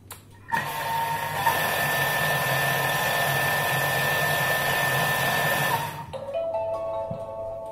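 A Thermomix TM5 whirs at top speed 10 as it mixes pastry cream, a loud steady high-pitched motor whine starting abruptly, running for about five seconds and then winding down, followed by a softer electronic beep.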